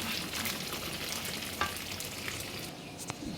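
Butter simmering down into ghee in a pot, a soft, steady bubbling sizzle with a few faint clicks, close by and without speech.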